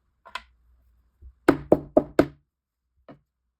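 Ceramic tile struck by hand to break it into mosaic pieces: a faint tap, then four sharp close knocks in quick succession and one last soft hit.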